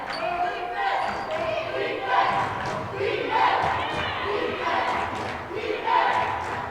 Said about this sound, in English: You hear the crowd starting to get into it.